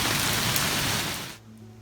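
Steady heavy rain hisses down as a hailstorm ends outdoors, a dense even wash that drops away sharply near the end and leaves a quieter background.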